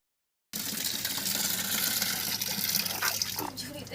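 Water is poured out into a basket, starting abruptly after a short silence and then running as a steady, loud, close rushing stream that shifts slightly toward the end.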